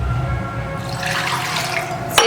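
Water pouring into a pot of cauliflower curry, a short steady splashing rush with a brief clink near the end, no voices.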